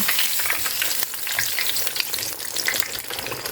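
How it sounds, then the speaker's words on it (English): Steady, crackling sizzle of chicken frying in a hot pan over high heat, dense and continuous at close range with no voices. "Allow it to sizzle in the elevated heat until it reaches a beautifully golden brown color"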